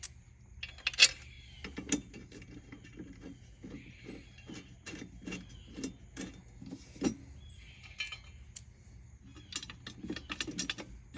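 A ratchet fitted with a 14mm socket loosens the blade bolt on a Honda lawn mower, giving quiet, irregular clicks and metallic ticks spread across the whole stretch over a low background hum.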